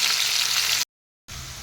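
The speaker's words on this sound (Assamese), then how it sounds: "সেই তেলতে মই এতিয়া দিম পিঁয়াজ আৰু জলকীয়াটো দিম" Onions and green chilies frying in hot oil give off a loud, steady close-up sizzle that cuts out abruptly for a moment of silence, then resumes.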